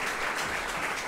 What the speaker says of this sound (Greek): Να δώσουμε ένα χειροκρότημα σε όλους τους μουσικούς μας που συμμετείχαν και βοήθησαν τον Γιώργο.